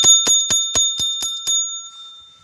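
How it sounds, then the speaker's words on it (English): A small bell rung for pet ferrets gives seven quick, bright dings in a steady rhythm, close and clear, with the last strokes ringing out and fading into quiet. "I got them a little bell"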